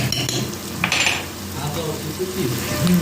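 Chopped garlic hits a hot pan and sizzles loudly and up close, with a steady crackling hiss and brief clinks of a spoon against the pan.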